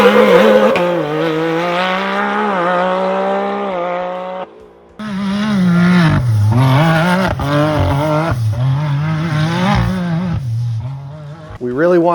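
A 2024 Can-Am Maverick R engine with an aftermarket exhaust revs and roars with a deep throaty tone, rising and falling through several throttle blips, loud and close.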